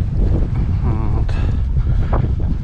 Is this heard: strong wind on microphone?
yes